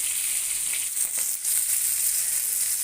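Pangas fish fries in hot oil with a steady, close, bright sizzle that carries on alone without talk.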